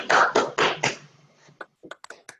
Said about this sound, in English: let's everybody give a round of applause